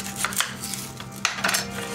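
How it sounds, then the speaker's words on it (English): A knife cuts off both ends of an onion on a board, giving a few sharp close cuts and knocks over a low steady hum, with no talk. "Cut off both ends."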